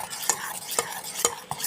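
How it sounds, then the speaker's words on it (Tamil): Onion, tomato, ginger-garlic paste and spices with chili powder, turmeric and salt sauté in hot oil, with a steady sizzle broken by four sharp, evenly spaced scrapes of a spoon stirring the pan. "மிளகாத்தூள், மஞ்சள்தூள், உப்பு போட்டு நல்லா வதக்கிடணும்"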